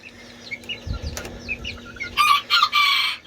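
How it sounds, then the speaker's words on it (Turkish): Adult Serama bantam roosters crow close by, several loud crows bunched near the end over softer chirps and clucks from other birds. "burada artık yetişkin olan ve sürekli öten 4 tane serama horozumuz var"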